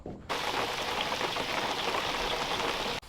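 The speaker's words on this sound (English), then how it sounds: "it just got finished dumping rain" Heavy storm rain pours down outdoors on a fishing trip, a dense, loud, continuous hiss of drops on surfaces that starts abruptly and holds steady, with no talking.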